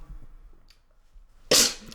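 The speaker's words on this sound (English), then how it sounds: "I'm gonna sneeze." A single sharp human sneeze bursts out near the end after a quiet stretch of faint breathing.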